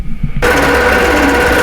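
A sewing machine quilting through rose-print fabric in a quilt runs steadily and close, a continuous mechanical whir that starts abruptly after a brief quiet moment and holds even to the end.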